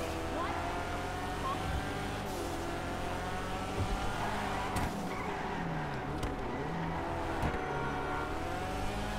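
Video game car engine droning steadily with tires skidding and sliding through several drifts, all under continuous talking.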